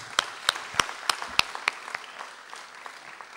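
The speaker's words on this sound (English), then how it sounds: "Can we have a round of applause for UKM?" Audience applause at a university student mobility program event, a ragged patter of claps that starts fairly strong and thins out over a few seconds, heard alone.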